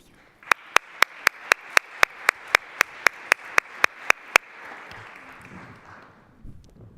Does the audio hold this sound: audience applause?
yes